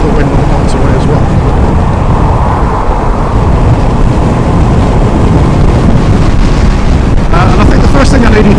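Steady, loud broadband wind roar buffets the microphone while riding a motorcycle at speed on a motorway, continuous throughout with no breaks.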